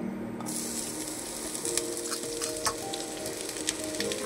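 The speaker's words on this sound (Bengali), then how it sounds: "এই পেঁয়াজটা আমি ভেজে নেব।" Onions sizzle steadily in hot oil, a dense continuous crackle with a few sharp pops and scraping stirs, no voices.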